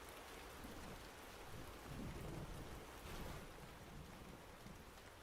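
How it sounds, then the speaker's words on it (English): Storm rain comes through an open window as a steady, soft wash of falling water with a faint low rumble that swells briefly, heard alone and at a distance. "Storm season out here."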